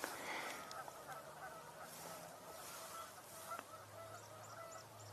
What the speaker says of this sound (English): I'm hearing a lot of Canada geese.